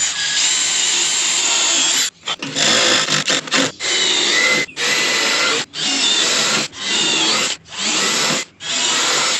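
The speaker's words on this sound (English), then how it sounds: "I'm going to drill this one, put a screw in it so it holds everything in place" A power drill whines loudly in long bursts, grinding through steel sheet metal for a barndominium porch, stopping briefly between each burst in a steady rhythm.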